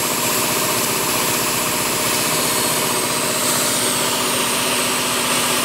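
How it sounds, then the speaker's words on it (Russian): An air compressor drones loud and steady in a garage next to a 2006 Audi Q7 3.0 diesel during a fuel filter change, a dense continuous mechanical roar with a fast pulsing rhythm and no let-up. "Сейчас компрессор успокоится."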